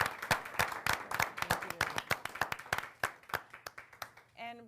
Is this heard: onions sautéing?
no